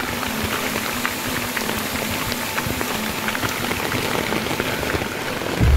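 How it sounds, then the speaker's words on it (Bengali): Dense, constant hiss of a heavy downpour on a tent at a campsite near a roaring waterfall, with a close thump near the end. "বাইরে প্রচণ্ড বৃষ্টি, ঝর্ণার প্রচণ্ড গর্জন"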